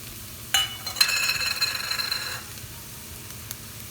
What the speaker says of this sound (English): now this has been sauteing for maybe a minute, and to this I'm going to add my jalapeno and garlic